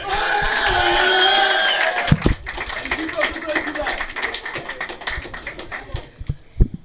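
A studio audience at a Czech blind-date show breaks into whoops and cheers, then settles into scattered, fading clapping over about seven seconds.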